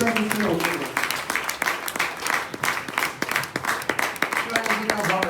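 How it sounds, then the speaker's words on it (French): A church congregation applauds loudly for the Lord at an evening seminar service, with dense, sustained clapping mixed with crowd voices and shouts throughout. "Acclame très fort le Seigneur."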